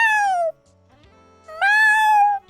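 A human voice imitates a cat's meow: two drawn-out, falling meows, close and clear, separated by a short silence.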